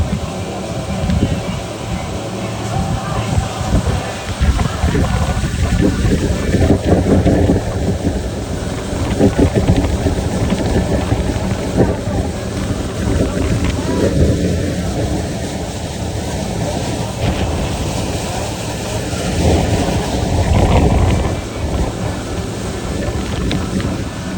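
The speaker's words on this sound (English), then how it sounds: "It's a bit windy." Strong wind buffets the microphone in gusty rumbling waves aboard a dolphin-watching boat, with a voice audible now and then beneath the blustery noise.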